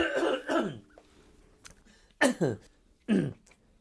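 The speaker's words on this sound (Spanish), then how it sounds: "perdón por la tos" Several harsh coughs in separate bursts, close and fairly loud, with quiet pauses between them.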